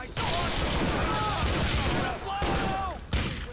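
Rapid bursts of gunfire fill a GTA 4: The Lost and Damned shootout, a dense loud barrage that keeps going with brief dips, while a voice talks over the shooting.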